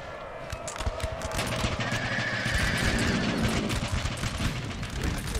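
Horses whinny amid dense gunfire and artillery in a Napoleonic Total War 3 battle, a thin neigh rising over rapid, crackling volleys and rumbling impacts that continue throughout.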